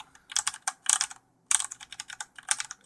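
Typing on a Corsair Vengeance K95 mechanical keyboard: crisp, fairly quiet key clicks in quick bursts, with a short pause in the middle.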